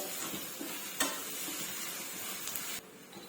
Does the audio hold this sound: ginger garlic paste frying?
yes